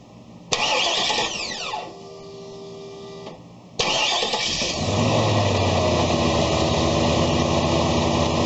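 An OBS-era GMC/Chevy truck engine cranks over during a crank position sensor test: a loud starter whir with a falling pitch, a brief drop, then a second longer crank that settles into a steady, close mechanical drone.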